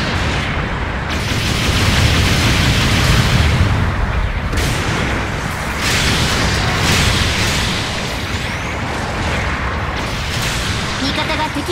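Enemy base demolition in Gundam Battle Operation 2, a loud, sustained roar of explosions and heavy gunfire rumbling continuously with bursts and booms layered over dense battle noise.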